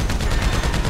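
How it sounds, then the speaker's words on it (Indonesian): Rapid gunfire from a player shooting down parachuting pilots in GTA 5, a dense burst of shots rattling continuously and loud through the whole moment, with no talking. "Kita tembak pilotnya langsung pada jatuh"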